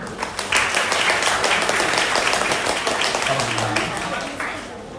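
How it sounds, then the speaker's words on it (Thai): Audience at an architecture department lecture claps to welcome a speaker, a loud dense wash of applause throughout, with voices audible underneath. "ขอเสียงปรบมือต้อนรับ"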